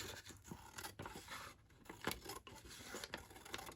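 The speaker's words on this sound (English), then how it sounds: "I'm just going to trim a tiny bit off with my scissors." Scissors trim paper for a junk journal in a series of quiet, close snips and scraping rustles, each cut brief and soft.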